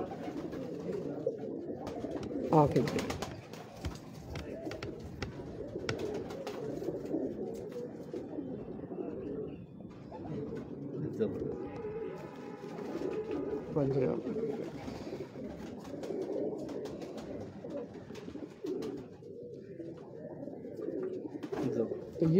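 Jure pigeons cooing on a Lahore rooftop, soft low coos rolling continuously beneath someone talking nearby, with brief rustles and faint background noise.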